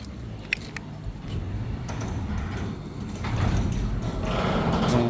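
A garage door closing under a Lexus opener, giving a low mechanical rumble and rattle that grows louder near the end, with a few light clicks and no voices.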